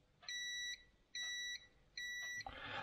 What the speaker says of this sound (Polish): Sprawdzamy sobie, czy te małe tranzystory pikają.